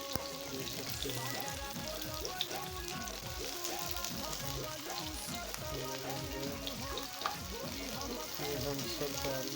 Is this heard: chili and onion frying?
yes